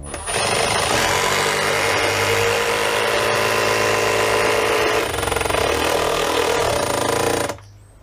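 An impact driver drives screws into a wooden stair with loud, rapid hammering bursts, pausing briefly before a final burst and a sudden stop.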